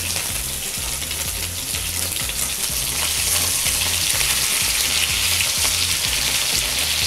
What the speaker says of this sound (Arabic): هنسيبها تسيح على النار ونشوح فيها البطه قبل ما نسلقها